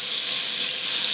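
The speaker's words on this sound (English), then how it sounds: "And just brown these really quickly in the fat." Button mushrooms browning quickly in hot bacon fat in a pan, a brief continuous loud sizzle with a bright, even hiss throughout.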